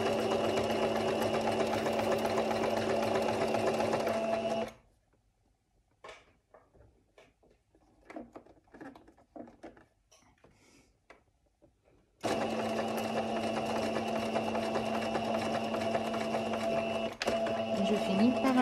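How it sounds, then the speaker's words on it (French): Sewing machine stitching a shirt seam, running in two long steady bursts with a quiet pause between them where small clicks and handling sounds occur. "J'ai abaissé mon pied presseur et je continue ma piqûre jusqu'en bas de l'autre côté."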